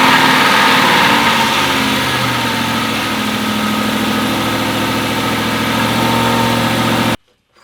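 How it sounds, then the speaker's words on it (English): An Aston Martin with a dry-sump oil system runs after an oil change, its engine holding a steady, loud idle with a faint rising hum for about seven seconds, then cutting off abruptly into near silence. "I'm going to turn on the car for 20 seconds, let all the oil go into the engine from the dry sump system"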